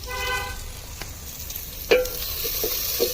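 Potatoes frying in a pan for aloo dum, stirred until browned: a steady sizzle with a few sharp scrapes of the spoon against the pan. A brief tonal beep sounds near the start, and there is no talking.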